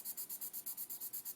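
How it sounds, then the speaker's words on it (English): A 4B charcoal pencil scratches across paper in quick, even back-and-forth strokes, about a dozen rhythmic rasps close up and with no voices. "This is a 4B charcoal pencil."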